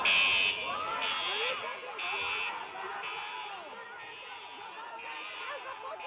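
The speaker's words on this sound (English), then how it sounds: "after they pull the fire alarm" A fire alarm pulses in repeating buzzing beeps through the Columbia library during a protest, over loud crowd chatter and shouting voices.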